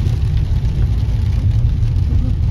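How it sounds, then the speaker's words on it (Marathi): A car drives through water on a flooded road during heavy rain at a village fair, a loud, steady rushing wash mixed with a low engine rumble. "गाडी बघ कसं फवारे उडून आल्या."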